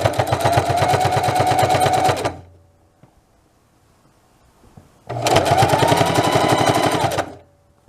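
Sewing machine stitching a throw pillow runs in two loud, steady bursts of rapid needle clatter, separated by a quiet pause of about three seconds.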